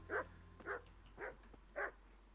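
A dog in the medieval game Kingdom Come: Deliverance barks four times in a steady, evenly spaced series, each bark short and clear over a quiet, low background hum.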